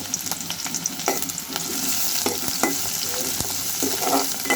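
Onions fry in oil with two dried chillies in a pan, a busy close sizzle broken by frequent scraping and stirring clicks of a spatula, with no voices.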